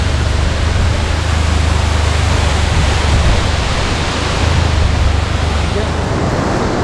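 Several monsoon waterfalls pour together in the hills of Dharchula, giving a loud, steady, unbroken roar of rushing water heard up close with no pauses.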